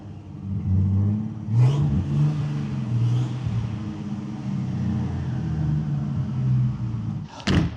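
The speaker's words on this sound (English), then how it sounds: "You don't want to go too fast in a lifted Jeep Wrangler with a turbocharger." A lifted, turbocharged Jeep Wrangler engine revs steadily, its low rumble rising and falling in pitch, with a sharp burst of noise near the end.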